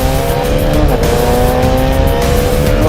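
Bajaj Dominar 400 motorcycle with a 373cc liquid-cooled, fuel-injected single-cylinder engine, running with a steady, loud, close engine tone that holds throughout and has no voices over it.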